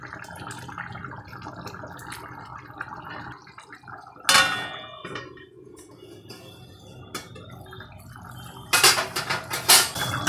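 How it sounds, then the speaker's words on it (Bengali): Lid set onto a cooking pot of chicken and potato curry, metal clattering and clanging in a few sharp bursts amid quieter kitchen clinks. "চলো আমি এবার একটু ঢাকা দিয়ে রাখবো।"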